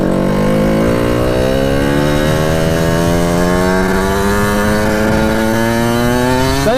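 Kawasaki KX80 big-bore dirt bike engine pulling in a really high gear, a loud, close two-stroke drone whose pitch climbs steadily as it accelerates, with no talking.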